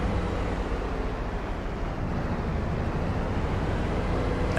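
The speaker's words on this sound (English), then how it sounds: "It's got a fairly quiet engine sound, which you can hear rev up until it reaches maximum speed" A Class combine harvester engine in Farming Simulator 22 gives a steady, fairly quiet low drone that stays broad and even throughout the clip.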